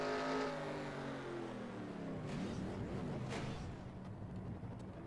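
Race cars in the NR2003 ARCA series racing game roar past with layered engine drones that sweep and shift in pitch, loud and continuous throughout.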